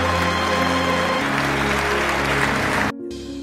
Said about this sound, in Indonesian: Ip Man pun mendapat tepuk tangan dari para kader Marinir.